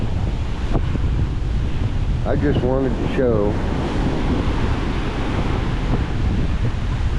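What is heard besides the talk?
strong wind and ocean waves on a beach in Boracay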